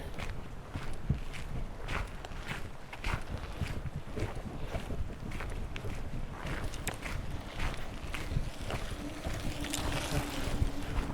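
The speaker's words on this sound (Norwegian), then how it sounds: "Men det er helt vilt med vind" Strong wind of about 8-9 metres per second by Bjørnsjøen lake in Nordmarka forest, Norway, buffets the microphone in continuous gusty rumbles, with scattered knocks and crunching steps mixed in.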